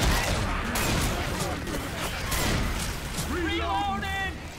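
Shotgun blasts in a co-op zombie shooter video game, heavy booming shots mixed with game noise while players talk over the action.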